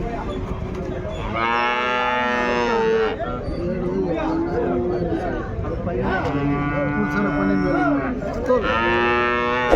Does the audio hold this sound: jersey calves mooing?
yes